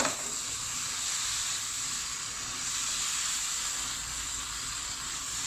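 Salt and chili shrimp stir-fried in a pan with oyster sauce and seasoning gives off a steady, close sizzle and hiss that holds evenly throughout, with no voices.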